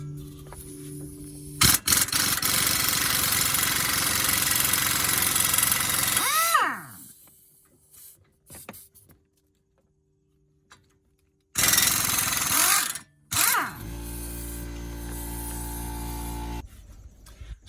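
Impact gun on an 18 mm brake bolt of a 2017 Ford Explorer, loud rapid hammering bursts close up, separated by pauses with faint clicks, with a winding-down whine after the first long burst.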